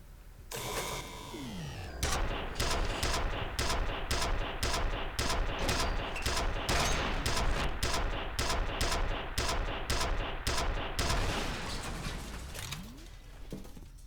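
A video game gun fires in rapid, evenly spaced bursts, a long loud chain of sharp cracks lasting most of the stretch, with brief electronic sweeps at the start and end.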